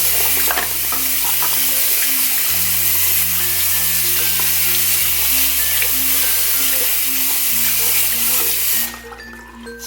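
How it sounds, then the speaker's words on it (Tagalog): Tap water runs steadily into a sink while makeup brushes and beauty blender sponges are washed with soap, a continuous hiss under a backing music track that cuts off near the end. "Little bit of running water."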